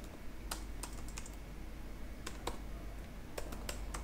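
Close, light clicking of keys on a computer keyboard in short irregular bursts with pauses between them, over a steady low background hum and no talking.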